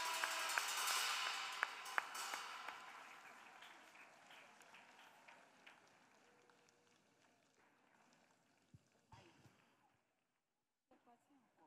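A church congregation claps during a service at a revival gathering, starting loud and dense, then thinning out and fading to a few scattered claps before near silence.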